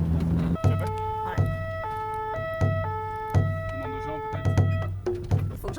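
A French-style fire engine siren arriving in Mayotte sounds its loud, close two-tone wail, alternating high and low notes in a steady rhythm over a low engine rumble.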